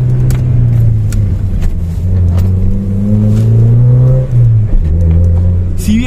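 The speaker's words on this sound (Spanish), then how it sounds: "Un golpe en el acelerador para devolver el cambio yendo a 30 kilómetros por hora" Car engine in a closed residential street, revving with a quick blip of the throttle as the driver drops from second into first at about 30 km/h; a steady close engine drone rises and falls in pitch, with a sharp rev near the end.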